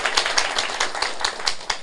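An audience at a lecture claps in a brief, fairly close burst of irregular hand claps for about two seconds, with no talking over it.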